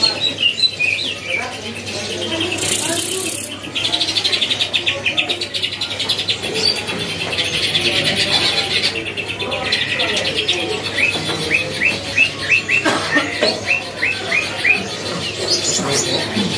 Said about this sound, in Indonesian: tersedia untuk stok burung caijo yang sudah gacoran ya. Ini yang di atas lagi bunyi mulu.